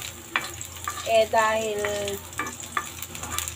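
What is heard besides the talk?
garlic frying in a non-stick pan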